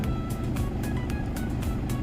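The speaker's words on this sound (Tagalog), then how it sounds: "Sumisipol pa yung kanyang turbo mga kabady. Matining pa yung kanyang makina." Engine of a 2007 Toyota Hilux 4x4 with manual transmission and a turbo that whistles, running steadily close by, a continuous low rumble with faint high whine and light repeated ticks.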